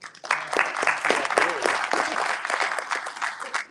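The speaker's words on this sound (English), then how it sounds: "let's give a round of applause to Todd and to Dave." Round of applause from the audience at a USPS roundtable event, a dense, steady patter of many hands clapping close by, sustained for several seconds with faint voices mixed in.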